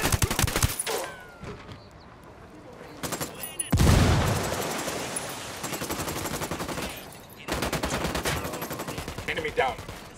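Bursts of automatic gunfire from a rebel squad in the tactical shooter Ghost Recon Wildlands, loud repeated volleys with a heavy blast near the middle and short pauses between clusters of shots.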